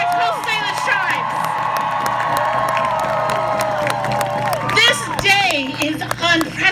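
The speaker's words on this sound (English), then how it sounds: "I want to hear a big round of applause for our Coast Salish tribes." A crowd at a women's march rally in Seattle cheers and whoops loudly with a steady wash of clapping, excited voices rising over one another throughout.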